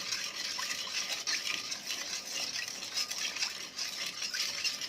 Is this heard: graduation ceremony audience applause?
no